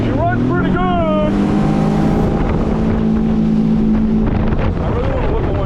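A 20-year-old jet ski engine runs on open water, a steady droning motor with a rising whine, partly buffeted by wind noise on the microphone.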